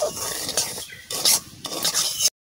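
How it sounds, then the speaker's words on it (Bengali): Semolina frying in ghee for sweet halwa is stirred and scraped briskly in a pan, a dry rasping, rubbing sound with soft sizzle, close and fairly loud in uneven bursts before stopping abruptly. "সব সুজিগুলো ভাজা হয়ে গেছে, সুন্দর করে ভাজা করে নিচ্ছি আমি"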